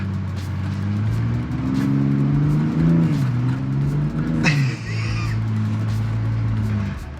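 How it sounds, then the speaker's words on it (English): A 2022 Ford Bronco Raptor with its rear differential locked spins its rear wheels in beach sand, the engine droning steadily and loudly with rising and falling revs and a brief higher surge midway. "because the rear diff is locked, it's going to spin the rear wheels at the same time"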